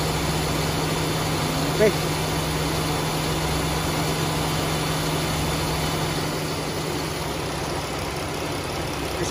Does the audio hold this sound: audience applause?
no